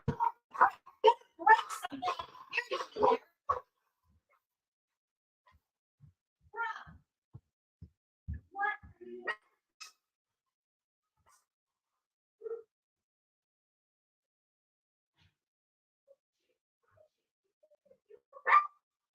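A dog gives scattered barks and whimpers in short bursts that are fairly faint and separated by long quiet gaps, with the busiest cluster at the start.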